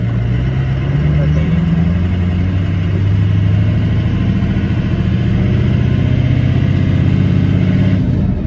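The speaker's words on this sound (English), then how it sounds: "in the truck now, driving around, just got it nice and warm" A 6.0 Powerstroke diesel truck engine, built to about 700 hp, rumbles steadily from inside the cab while driving, its low drone shifting pitch slightly as speed changes, with a constant loud presence throughout.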